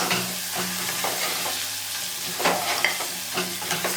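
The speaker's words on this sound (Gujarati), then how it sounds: "મીડિયમ આંચે એક મિનિટ સુધી તેલમાં આપણે રીંગણને પણ શાંત લઈશું" Eggplant sautéing in oil over a medium flame for a stuffed brinjal and green pigeon pea curry, giving a steady close sizzle with occasional stirring scrapes and clinks of the utensil, and no voices.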